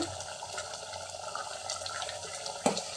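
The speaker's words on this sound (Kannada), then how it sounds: "ಸ್ವಲ್ಪ ನೀರು ಹಾಕ್ತಾ ಇದ್ದೀನಿ" Water pours steadily into a pot of chicken masala with a constant splashing hiss, ending with a brief clink near the end.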